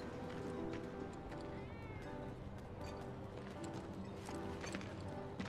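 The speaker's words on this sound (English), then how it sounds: "There's a lot of cats over here." Many cats meow repeatedly over one another in Final Fantasy VII Remake, a dense chorus of overlapping mews over steady game ambience.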